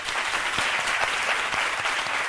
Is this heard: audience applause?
yes